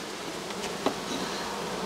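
A dense, continuous drone of many honey bees crawling on a comb from a strong colony, close and steady, broken by one brief soft knock, with no voices.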